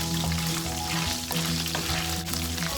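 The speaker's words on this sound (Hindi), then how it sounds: "थोड़ा सा फ्राई कर लेंगे इसको" Whole garam masala spices sizzling in hot oil in a pan while making shahi qorma, a dense, steady frying hiss with light crackle throughout.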